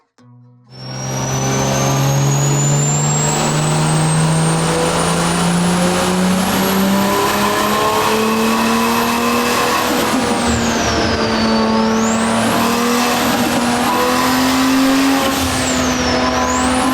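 A turbocharged 1JZ engine in a MK3 Toyota Supra, running about 10 psi of boost, revs up on a dyno after a brief idle. The pitch climbs steadily through a long, loud pull, then dips and wavers near the top.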